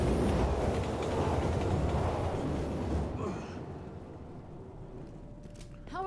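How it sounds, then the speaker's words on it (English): A train rumbles past in Resident Evil 6, a heavy, loud roar of rolling wagons that dominates the first three seconds, then fades to a lower rumble with a faint metallic whine near the end. "Train's coming."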